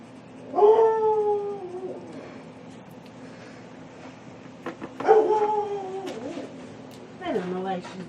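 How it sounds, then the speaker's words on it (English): A dog indoors gives three drawn-out howling barks spaced a few seconds apart, moderately near, with quiet room tone in between. "I don't know why she's barking."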